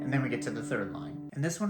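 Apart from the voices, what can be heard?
No everyday noises stand out.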